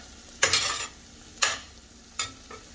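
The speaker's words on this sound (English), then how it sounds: "as you can see, it is sauteing pretty nicely" Vegetables for a zucchini stew sauté in a pan, with three separate bursts of stirring that scrape and sizzle close up over a soft frying hiss.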